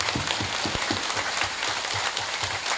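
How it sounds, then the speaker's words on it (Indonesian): An audience claps together at a gathering, producing a dense, steady patter of many hands that holds evenly through the whole stretch with no talking. "Tepuk tangan Bapak Ibu."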